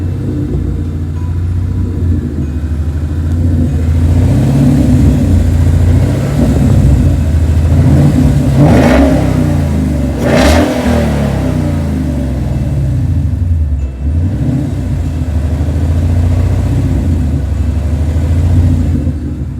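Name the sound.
Ford Mustang engine revving with a tick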